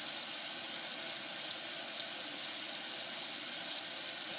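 Steady water runs from a tap into a sink during washing, a continuous broadband hiss that stays even and fairly loud for the whole stretch, with no voices over it.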